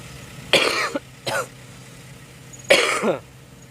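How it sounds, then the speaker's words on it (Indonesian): Three hoarse coughs close to the mic, the first two quick together and the third after a pause, over a low engine rumble from a vehicle on a toll road construction site. "Kami batuk guys, lagi tidak enak badan."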